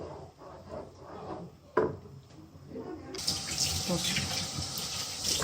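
Hot water gushes into a pot of haleem, a steady rushing pour that starts abruptly partway through and continues loudly to the end, preceded by quieter kitchen handling noises and some talk.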